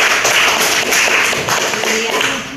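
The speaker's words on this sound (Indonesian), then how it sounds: "Boleh tepuk tangan." Classroom applause from students in a school lesson, a loud, steady round of clapping with some voices mixed in, easing slightly toward the end.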